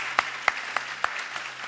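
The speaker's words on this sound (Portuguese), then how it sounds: "Queria que você aplaudisse ao Senhor pela vida dele." Church congregation in Brazil applauding, heard as a few sparse, separate claps at a steady spacing, fairly faint and thin rather than a full roar.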